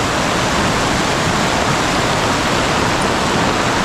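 Heavy mountain rain pours in a dense, steady roar, loud and unbroken from start to finish with no voices.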